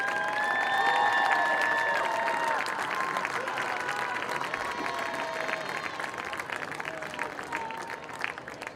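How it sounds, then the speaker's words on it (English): A high school football crowd applauds senior football players and managers leaving the field, sustained clapping that fades gradually, with scattered cheers and a voice over a public address system near the start. "let's do a round of applause for our senior football players and managers as they exit the field"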